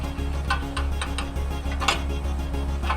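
Crescent wrench tightening a fan blade onto an AC condenser fan motor shaft: a series of light metallic clicks and ticks at an uneven rhythm, close by, over a steady low hum.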